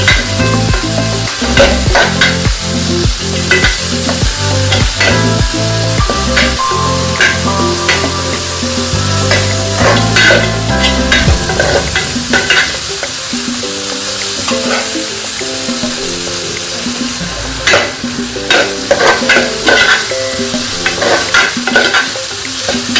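Carrots for egg fried rice sauté in a hot pan, a loud, steady sizzle with repeated scraping and clattering strokes of a spatula stirring throughout, close up and without any talking.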